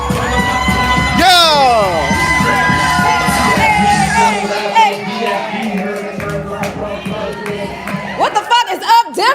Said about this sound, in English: Clap it up for the poet.